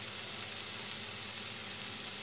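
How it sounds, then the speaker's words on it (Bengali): Red spinach fries in a pan after its water has cooked off, being stirred: a dense, even sizzle runs unbroken and close throughout the short stretch. "এবার একটু এরকম নেড়ে চেড়ে ভাজা ভাজা মতো একটু করে"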